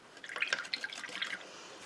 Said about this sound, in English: I can rinse my brush in water